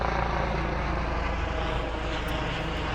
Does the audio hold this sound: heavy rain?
no